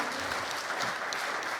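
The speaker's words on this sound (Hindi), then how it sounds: "एक बार तालियां बजा करके हमें आदेशित कर दीजिए" A short burst of steady audience applause at an outdoor national Hindi poetry recital for Maharana Pratap Jayanti, dense and continuous throughout with no talk.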